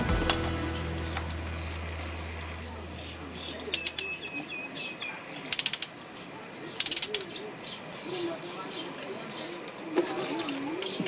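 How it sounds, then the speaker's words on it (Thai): A wrench works the engine oil drain plug on a 2007 Chevrolet Captiva C100 2.0 diesel with the engine hot, giving clusters of sharp ratcheting clicks over a steady background hum. "อ่ะทีนี้เราจะมาขันถ่ายน้ำมันเครื่องกันเลยนะครับในขณะที่เครื่องร้อนนะครับ"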